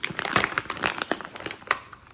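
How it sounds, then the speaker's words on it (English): Crisp crinkling of paper packaging on a Pop Mart toy being unboxed up close, a rapid series of rustles and crackles lasting a couple of seconds. "Paper sound."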